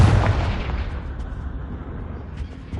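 A Confringo blasting spell in the video game Hogwarts Legacy sets off a loud, close explosive boom that decays into a long, low rumbling tail.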